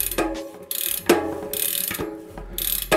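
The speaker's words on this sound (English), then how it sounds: "Pretty much use it like a ratchet." A cassette tool turned with an adjustable spanner on a bicycle cassette gives a run of sharp metallic ratcheting clicks, four or five bursts of rapid ticking separated by brief pauses, up close with no talking.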